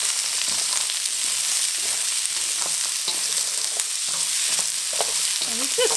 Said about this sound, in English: we just want to lightly stir fry these so that they're not completely raw